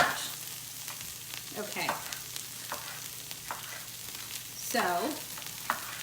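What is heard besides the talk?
fajita vegetables sizzling in a pan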